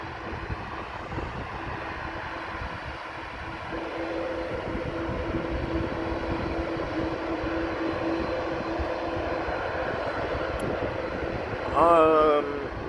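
An Airbus A330 airliner takes off at Amsterdam Schiphol, its engines a broad, steady roar heard from a distance for the whole stretch, with a faint tonal whine near the end.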